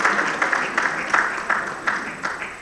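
Audience applause at a conference on the national infrastructure deficit and consulting, a moderate, evenly sustained clapping from a seated crowd with a few louder claps standing out.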